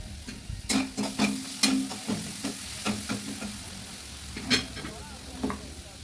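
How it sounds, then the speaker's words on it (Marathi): A boiled-potato mixture fries in oil with a pinch of asafoetida, a spoon stirring and scraping the pan in repeated close strokes over a steady low sizzle, with no talk. "हे मिश्रण आपण तेलात चांगले परतून घ्यायचे आहे। तुम्ही पाहू शकता। यात मी 1 चिमूटभर हिंग टाकून घेत आहे।"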